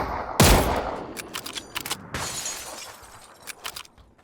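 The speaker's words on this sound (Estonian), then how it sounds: "Esimene lask purustas akna klaasi lihtsalt." A sharp, loud gunshot in PUBG is followed by window glass shattering, then several more scattered shots and crackling debris.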